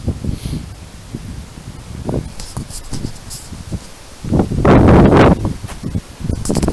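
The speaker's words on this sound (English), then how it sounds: "That's the wind I'm dealing with today." Strong wind buffets the microphone while bikepacking outdoors, a steady rushing roar with gusts that swell louder near the end, alone with no talk.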